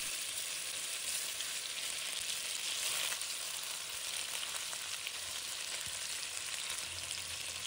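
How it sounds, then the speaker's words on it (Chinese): Cut tofu pieces frying in hot oil in a pan, a continuous hissing sizzle at even loudness throughout, close by, with no talking. "把切好的豆腐小心放进锅里"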